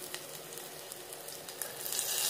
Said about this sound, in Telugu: అల్లం వెల్లుల్లి పేస్ట్ వేసేసాను కదా చక్కగా పచ్చి వాసన పోయేంత వరకు నూనెలోనే వేపుకోవాలండి ఇలా చక్కగా అడగంటకుండా కలుపుతూ